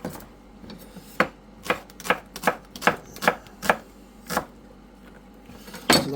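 Shallots are chopped with a knife on a board for a venison steak pie, about ten crisp, close knife strikes landing at an uneven pace.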